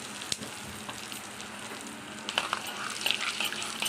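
Curry leaves and asafoetida sizzle in hot oil as a tempering for tomato pappu: a steady, fairly quiet crackling fry with a few sharper pops and faint stirring, no voices.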